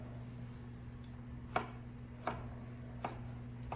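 Vegetables being chopped into bite-size pieces on a board, four crisp knife strikes spaced unevenly over a low steady background hum.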